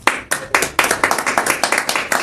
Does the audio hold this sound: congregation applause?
yes